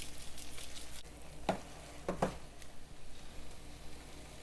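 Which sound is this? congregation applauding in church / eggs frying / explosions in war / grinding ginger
eggs frying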